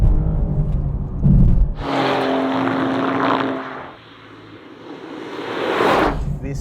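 A 2025 Maserati GranTurismo Trofeo pulls hard down a track's back straight, its engine note climbing loud and steady through a long sustained run before easing, then swelling again near the end.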